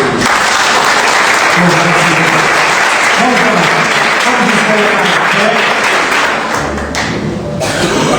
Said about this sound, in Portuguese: Pode aplaudir esse Deus.